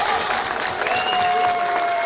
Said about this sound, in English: And the Middletown crowd is loving it